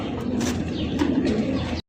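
Pigeons coo softly and steadily in a loft at a pigeon sale, a low continuous murmur of several birds close by before a brief cut.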